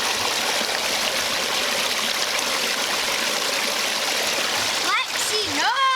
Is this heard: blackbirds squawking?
no